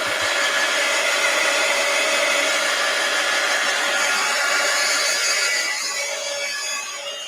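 A hair dryer blows steadily on a sheet of wet artwork, drying it from the back; the constant airy whir stays loud and close throughout and eases off slightly at the very end.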